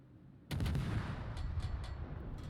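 Guns of a Tier 7 Pan-Asian light cruiser, the Chumphon, firing in a naval battle video game: a sudden loud boom followed by a rumbling roll with several sharper reports trailing off.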